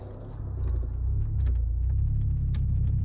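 Tuned Volvo C30 engine heard from inside the car while driving, a steady low rumbling drone at fairly constant revs with faint mechanical ticks above it, no talking.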